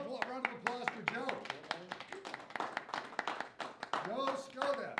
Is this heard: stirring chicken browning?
no